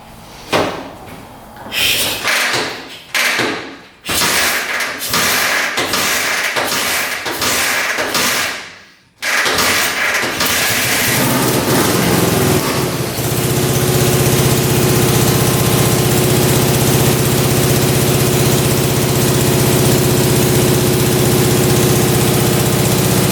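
An old Russian military motorcycle, left untouched for over thirty years, cranks with several loud sputtering attempts, catches and settles into a steady, rough idle that runs loud and close for the rest of the clip.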